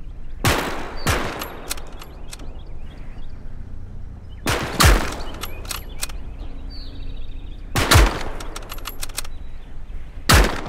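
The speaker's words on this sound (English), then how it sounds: "Shoot at the targets" Rifle shots at shooting-range targets during basic combat training in the WWII game Call to Arms: Gates of Hell Ostfront, four sharp loud cracks spaced a few seconds apart over a steady ambient bed.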